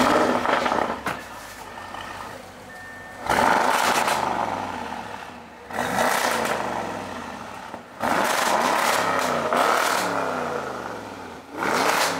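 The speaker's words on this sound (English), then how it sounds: "This RS7 is fully equipped with downpipes, muffler, everything. It's probably one of the loudest RS7s I've ever heard." A loud Audi RS7 fitted with downpipes and a muffler revs repeatedly in a shop, with several long, aggressive bursts that rise and fall, then drop back to a rumbling idle between pulls.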